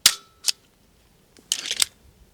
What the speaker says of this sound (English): Gun did not go off again.